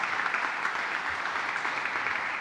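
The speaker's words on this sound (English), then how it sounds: "please once again join me in giving a big applause for Stephen." Audience applause at a press conference on the redevelopment of the Superman Building, a continuous, even wash of clapping heard from a slight distance with no speech.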